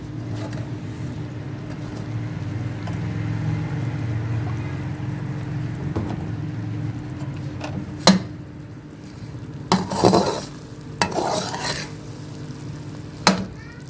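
Ghee is added to semolina and chickpeas being fried and stirred in a pan, giving a steady low sizzling hiss over a hum, with a few sharp spoon-against-pan clinks near the end.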